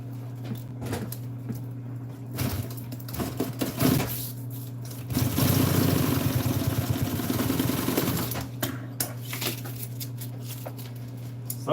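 A sewing machine stitching a custom-fitted dog garment, running in short bursts separated by pauses, with one longer steady whirring run in the middle, close and fairly loud.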